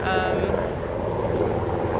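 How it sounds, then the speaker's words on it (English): An aircraft passes overhead outdoors, a steady, loud engine drone that fills the whole stretch without easing off. "Sorry, there's a plane."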